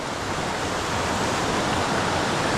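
Fast-flowing creek current in Southern California, a dense steady rush of water, loud and close, filling the scene without pause or voices.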